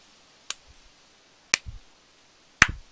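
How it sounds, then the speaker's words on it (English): Three sharp hand claps, spaced about a second apart, loud and close in an otherwise quiet space. "That's me clapping."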